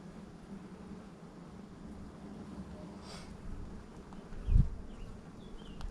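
Honeybees swarm over an open hive during a summer inspection, a constant soft drone of many wings hovering close, with a brief thump near the end.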